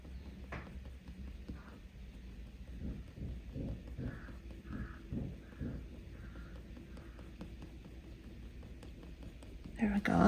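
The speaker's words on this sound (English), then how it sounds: "Crow's been very noisy." A crow caws several times at a distance in an outdoor setting, the calls spaced irregularly through a quiet background, with soft speech present and a louder noise at the very end.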